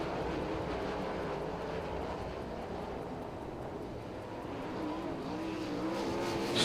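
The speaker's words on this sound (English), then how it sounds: "We get to the Mike Yaples starting line, and we are green" A pack of 410 sprint cars roars steadily at Lincoln Speedway on a green-flag start, engines droning continuously with a slight rise and fall as the field passes, with no talk over it.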